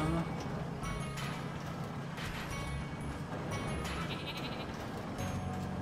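Sheep bleat in the video game Flockers, mixed into a dense, busy game soundscape with continuous music and effects; the bleats are not individually distinct.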